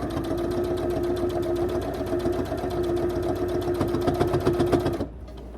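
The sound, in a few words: sewing machine stitching fabric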